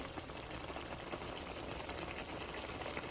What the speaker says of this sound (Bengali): বটগোলা সিদ্ধ হয়ে আসছে